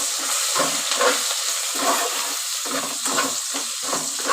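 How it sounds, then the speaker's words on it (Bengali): Ginger-garlic paste stirred in hot oil for a cabbage dish, giving a steady close sizzle and frying hiss with repeated scraping stir strokes throughout. "এবার আমি আদা রসুনটাকে নেড়ে নিচ্ছি"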